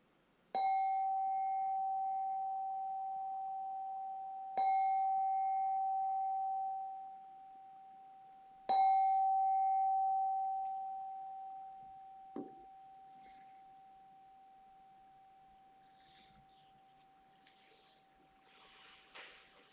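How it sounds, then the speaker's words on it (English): A meditation bell is struck three times at steady intervals, each clear ringing tone sustaining and slowly fading; soft faint rustles follow near the end, with no speech. "in a moment, I'll ring the bell"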